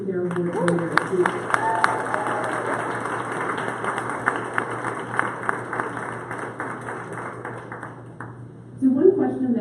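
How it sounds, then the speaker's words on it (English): At a Women Who Code awards event in San Francisco, an audience applauds award recipients with a steady, moderate patter of many hands. A voice speaks briefly at the start and again near the end. "please give a huge round of applause to those who received their award earlier this week"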